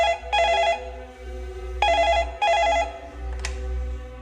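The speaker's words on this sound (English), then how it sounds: "he got a disturbing phone call" A telephone rings in short electronic trilling bursts, three rings spaced about a second apart over a low steady hum.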